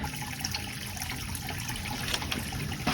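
Water drains from a hot water heater tank in a soft, steady trickle, faint and continuous with no speech.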